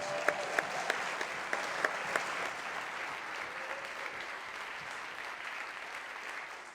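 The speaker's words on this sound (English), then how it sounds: "Let's give them another round of applause, please." Lawmakers and guests in the Illinois House chamber applaud the Chicago Sky, the home team and new WNBA champions, with a sustained round of clapping from a large crowd and a few sharper, closer claps standing out near the start.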